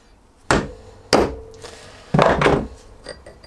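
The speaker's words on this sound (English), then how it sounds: "Make sure it's loose enough, and then we should be able to tap it out." Hammer taps knocking a bearing out of a Triumph Bonneville spoked motorcycle front wheel hub held in a vise: three sharp metallic knocks spaced about a second apart, close and loud, with a short ring after each.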